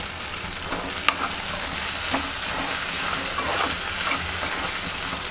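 Okra bhindi masala cooks in a pan with a steady, close frying sizzle that holds evenly throughout, with no talking.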